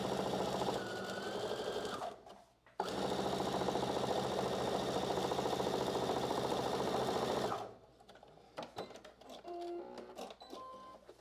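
Sewing machine stitching a seam on muslin at a regular 2.5 stitch length with a half-inch seam allowance, running loud and steady for several seconds with a brief pause, then stopping as quieter handling sounds follow.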